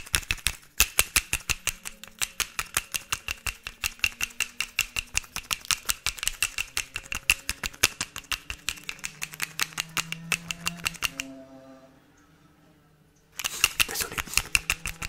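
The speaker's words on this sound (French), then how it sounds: "je vais faire un petit triggers avec un stylo" Rapid, crisp pen tapping used as an ASMR trigger, steady close clicks repeating for several seconds, a brief pause with a soft faint voice, then the tapping resumes.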